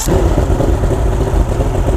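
A Basscat bass boat engine in neutral, loud and steady throughout with a low rumbling drone and a slightly rough mid-range hum, as if it has just fired up and settled into idle.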